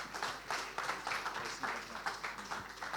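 A church congregation claps together for a visiting brother at a Sunday service, a fairly faint, steady patter of many hands with a gently pulsing rhythm and no voices over it.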